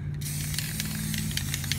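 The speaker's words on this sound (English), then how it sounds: "you can see it spraying out as well all the fumes" An aerosol can of RP-342 cosmoline anti-rust protectant hisses in a continuous close spray, with a low steady hum underneath and faint clicks scattered through.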